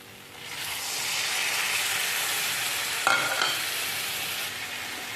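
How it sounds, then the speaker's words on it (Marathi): A spoon stirs sprouted moth beans around a sizzling pan, a steady hiss with a couple of scraping clinks partway through. "मटकी व्यवस्थित हलवून घ्यायचे"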